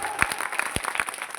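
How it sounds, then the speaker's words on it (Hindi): A crowd applauds a speaker at a Republic Day (26 January) speech event, giving a brief burst of dense clapping, fairly loud and close, with a few sharper individual claps standing out. "इसके लिए जोरदार तालियां"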